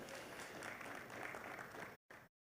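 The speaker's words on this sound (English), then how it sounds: "A round of applause, the Muvule seedling." Audience applause fills the room at a stock exchange listing ceremony in Uganda, a steady dense wash of clapping that cuts off abruptly, then a brief final burst.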